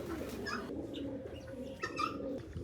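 A fantail pigeon coos in a farm setting with low, soft repeated calls over a steady background murmur, fairly faint and close, with no talking.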